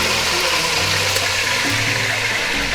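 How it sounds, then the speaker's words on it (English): Chicken fries in a pan of hot oil for arroz con pollo, producing a loud, steady, close sizzle that holds without a break. "I'm gonna let the chicken cook and then we're gonna flip it over and cook it a little bit more."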